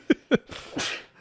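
Two short, sharp nasal bursts followed by a longer breathy exhale, a close, quick human sneeze fit lasting about a second with no talk.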